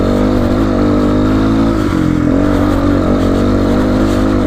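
A GPX FSE300R motorcycle climbing Webster Pass, its engine loud and close with a steady drone that shifts in pitch as the throttle changes, alone without voices.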